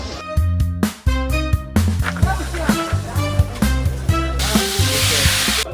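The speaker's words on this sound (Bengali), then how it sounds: "এখন কাঁকড়া আমরা ফ্রাই করবো" Crab fries in a pan with a loud, close, steady sizzle, broken by repeated clinks and clatter of utensils and bursts of crackling.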